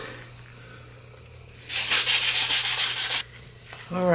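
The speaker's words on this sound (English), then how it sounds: "Give these a nice good sanding." Wooden pieces are sanded by hand for a desktop Japanese rock garden, a loud, rapid back-and-forth rasping lasting about a second and a half, then stopping abruptly.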